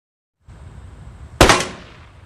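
A single sharp gunshot cracks during a shooting lesson in a film, loud and close, then rings out briefly over a low background hum.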